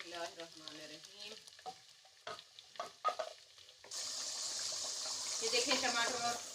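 Onion and tomato paste hits hot fried garlic in a pan, starting with clinks and speech-like sounds before a loud, steady sizzle bursts up and holds, with some stirring noise near the end.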